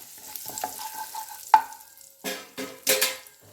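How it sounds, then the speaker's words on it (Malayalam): Turmeric powder, fenugreek seeds and asafoetida roast in hot oil for an eggplant podi, giving a light crackle punctuated by a sharp utensil knock and a few scraping stirs. "അല്പം മഞ്ഞൾപ്പൊടി, ഉലുവ, കായപ്പൊടി ഇതെല്ലാം ഇട്ടൊന്ന് നന്നായിട്ടൊന്ന് മൂപ്പിക്കുക."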